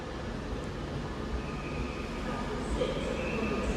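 Avanti West Coast train at Manchester Piccadilly station, a steady low rumble of the idling unit with diffuse platform ambience and faint high whines, moderately close and continuous.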